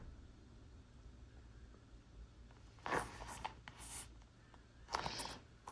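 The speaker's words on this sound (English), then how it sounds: "And zipper pull is very smooth and nicely open" A Louis Vuitton Vivienne holiday handbag's zipper pulled open in a few short raspy strokes, close and quiet, over a faint steady hiss.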